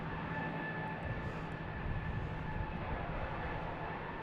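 A JetBlue airliner passes at Boston Logan Airport as a steady, broad jet-engine roar that stays loud and even throughout, with no voices over it.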